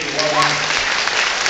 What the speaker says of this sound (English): Quick round of applause again, Nancie.